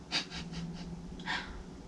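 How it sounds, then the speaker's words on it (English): Quiet, close snoring from a dog: a few soft, raspy breaths in quick succession, a pause, then another snuffling breath. "You hear my dog snoring?"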